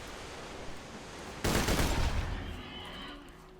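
A shock weapon fires in the video game Borderlands 2, a sudden loud burst of rapid crackling shots that lasts about a second and then tails off into the game's ambient noise.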